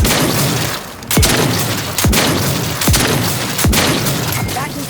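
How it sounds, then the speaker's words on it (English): Grenade blasts in The Outer Worlds 2 video game: several sharp, loud booms, roughly one per second, over a noisy, rumbling combat backdrop. "Grenade in proximity!"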